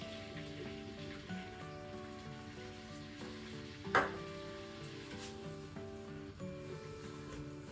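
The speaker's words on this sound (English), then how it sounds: "Now the butter's suitably melted, we want to make a roux using the flour." Flour goes into melted butter in a pan for a roux, making a soft steady sizzle and crackle with one brief louder scrape or clatter midway. Background music plays quietly underneath, and no one speaks.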